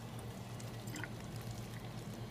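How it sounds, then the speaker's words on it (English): Water pours into a water bottle in a soft, steady trickling stream with a few small splashes, faint and alone throughout. "I can refill this in the water bottle."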